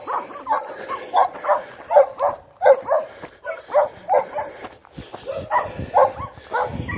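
Several dogs barking repeatedly on a residential street, a steady run of sharp barks in a fairly close, irregular rhythm with some yips mixed in, carrying on for several seconds without talk.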